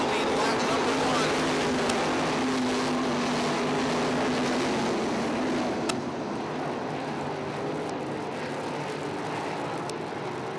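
A pack of 305 sprint cars roars out of turn four at the start of a dirt-track race, a dense, distant engine wash that fades slightly as the cars pass.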